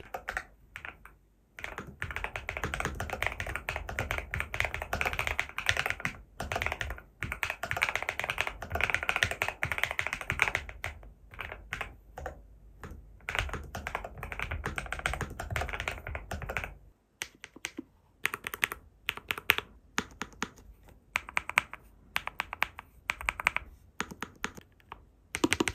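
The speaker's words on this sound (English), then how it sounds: "I'm just going to shut up and let you enjoy the typing test" Rapid, continuous typing on a new computer keyboard during a typing test, close up, with crisp key clicks and a few brief pauses.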